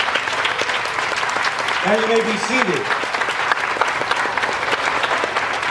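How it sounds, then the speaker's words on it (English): Audience applauding patients and cancer survivors at a Survivor Day event: dense, steady clapping fills the whole stretch while someone speaks over it through a PA. "So let's applaud the patients and survivors."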